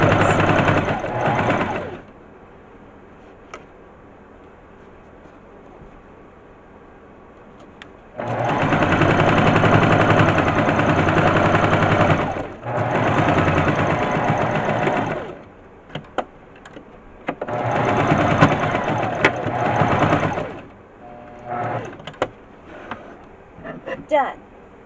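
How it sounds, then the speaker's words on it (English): A sewing machine stitches a plush dog in several close bursts, short runs broken by pauses where it reverses briefly for backstitching before sewing on again; a voice talks in the quiet gaps between runs. "First you sew on a little, go back a little, and sew again."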